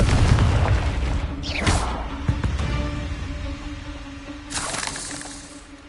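Confringo fire spell explosion in Hogwarts Legacy, a heavy booming blast with a rising whoosh, followed by rumbling and a second burst of crackling fire, loud and close without talk.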